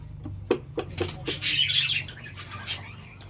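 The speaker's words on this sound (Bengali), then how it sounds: "পাখিগুলো বেরিয়ে গেল" Pet birds let out of a nest box give a few short chirps and a flurry of wing flaps, close by and brief.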